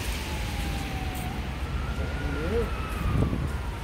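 A faint police siren wails in the distance, its rising and falling tone drifting under steady wind and street rumble.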